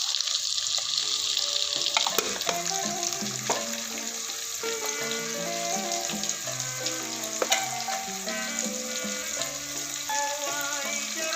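Red chili powder, cumin and spices sizzle in hot oil for a masala fish curry, a continuous close frying hiss with occasional stirring scrapes and faint background tones.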